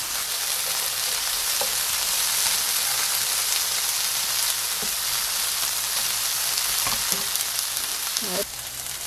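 Chicken breast sizzles steadily in a hot frying pan, a dense crackling hiss with occasional faint clinks of a utensil.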